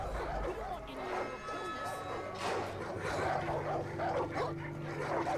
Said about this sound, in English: Aw, puppies.